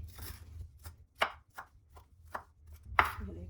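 A knife chops on a cutting board in sharp, irregular strikes, about eight cuts with quiet pauses between, close and crisp.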